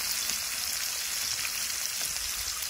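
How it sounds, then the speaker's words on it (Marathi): Green chillies frying in oil for spiced masale bhat rice, a continuous close, even sizzling hiss without talk. "मी मिरची टाकलेली आता याच्यात तळायला मस्त."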